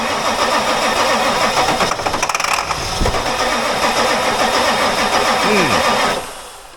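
A Ford F250 7.3 Powerstroke diesel truck engine cranks repeatedly with a rhythmic churning whir, loud and close, sputtering without catching, then winding down to quiet.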